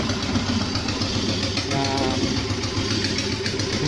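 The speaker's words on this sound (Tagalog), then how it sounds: "Pandar po yung kanilang motor" The motor of a declogging service truck runs steadily close by, a loud continuous engine drone with a faint voice briefly in the background.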